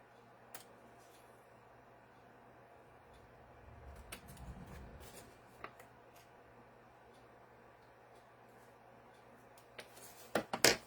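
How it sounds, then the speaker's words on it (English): Scissors trim paper for a handmade journal: a few sharp snips and clicks over a quiet room, with a low soft rustle midway and louder cutting and handling noises near the end, no speech. "We're just going to trim this off."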